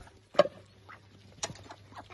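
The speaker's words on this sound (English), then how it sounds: "now we're gonna go and see our new chicken" A couple of short, sharp clucks from a rooster, spaced about a second apart, with softer murmuring clucks between them against a quiet background.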